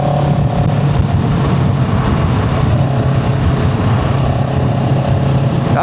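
A CFMOTO CLX 700 motorcycle engine pulls hard in sport mode, a loud, steady, rumbling growl with a low throb, mixed with rushing wind noise while riding.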